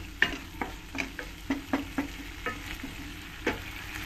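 A spice paste frying in oil, stirred with repeated scraping strokes over a steady sizzle, close and clear with no voices.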